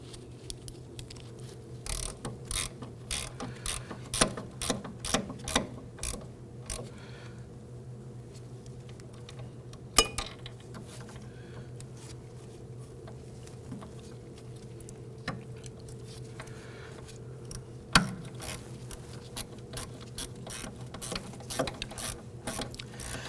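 Ratchet snugging wheel cylinder bolts on a 2008-2011 Ford Focus brake, with quiet repeated clicking strokes in uneven bursts over a steady low hum, fairly faint and close.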